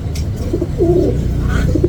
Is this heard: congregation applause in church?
no